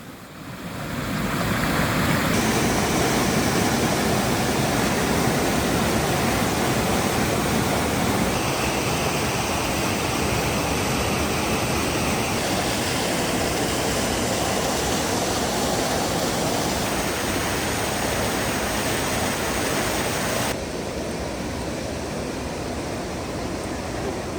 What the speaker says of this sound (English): Now we're always up for stopping and checking out a cool waterfall, and this one was no exception along the Dunbar Brook in Massachusetts.